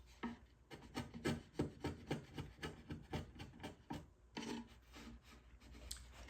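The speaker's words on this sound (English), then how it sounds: "And I'm just using these 2 chisels." Two chisels trim the excess wooden soundboard overhang, giving a steady run of rhythmic scraping, paring strokes close by with short pauses between bursts.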